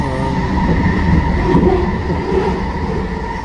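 A train rumbles steadily nearby, its wagons rolling past in a continuous loud, low drone with faint wheel clatter and a touch of metallic squeal, no talking over it.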